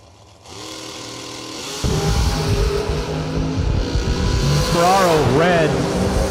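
A drag racing car rumbles at the line and then roars off with a rising, loud engine note that swells and wavers near the end, with a voice speaking over it.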